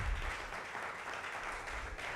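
Faint, diffuse applause from the audience at an open mic event during an awards evening, heard as a low, continuous patter of many hands with no voices.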